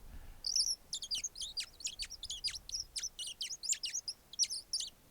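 A handheld Audubon bird call squeaks out rapid, high chirps in quick bursts, imitating birdsong, fairly close and quiet with nothing else around.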